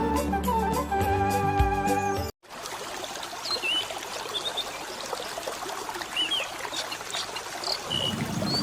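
River water flows in a continuous trickling, babbling stream with faint bird chirps above it, preceded by a short burst of music that cuts off abruptly.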